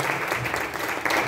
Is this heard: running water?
no